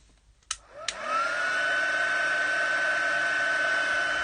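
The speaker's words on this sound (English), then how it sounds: "I'm going to get my heat gun out again, so turn your volume down if you've got sensitive hearing." Heat gun blowing on embossing paste during a card-making session: a click, then a steady loud whining roar with a sustained high tone that holds unbroken to the end.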